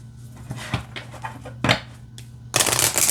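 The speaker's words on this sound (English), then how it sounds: "Okay, let's see how it shuffles." A deck of oracle cards riffles and snaps in several quick bursts, ending in a louder, brighter flurry of shuffling close by.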